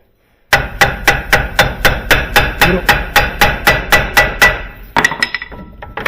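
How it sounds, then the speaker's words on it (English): A hammer strikes a car's drum brake drum to shake it loose, about fifteen sharp metallic blows in a steady, fast rhythm, loud and close, with a few irregular ringing knocks at the end. "Give it a whack at the same time. And the hammer will cause the vibration to let the drum release"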